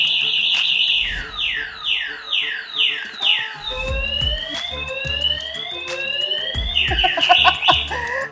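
A Raze Gremlin electric motorcycle's lock alarm sounds loud and close, cycling through sweeping electronic siren tones, with repeated falling chirps shifting to rising whoops and rapid warbles, and a few low thumps underneath.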